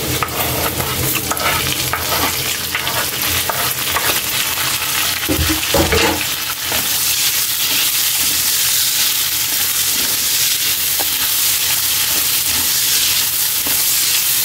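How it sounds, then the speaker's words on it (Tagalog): Onions dropped into hot oil in a pan, a loud close sizzle with busy stirring and scraping early on, settling into a steady bright crackling fry, no speech. "Lagay na natin yung sibuyas natin, Kaylee."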